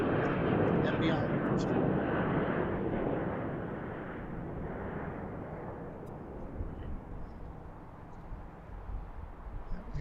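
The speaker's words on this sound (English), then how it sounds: "Here's Southwest landing right behind them." A Southwest airliner lands at BWI airport, its jet engines roaring loudly at first and then settling into a steadier, fading rumble, with someone talking over it.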